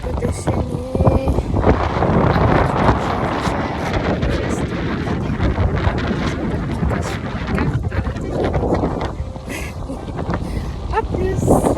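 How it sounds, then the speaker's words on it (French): Gusty wind buffets the microphone outdoors in cold, rainy weather in loud, rumbling surges, with a voice speaking French briefly audible beneath the roar. "il fait super froid, il y a du vent, il pleut"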